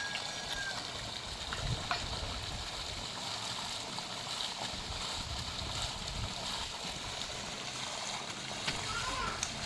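Continuous splashing and churning water as children play in a flooded paddy field, with occasional louder splashes and faint voices mixed in beneath the watery noise.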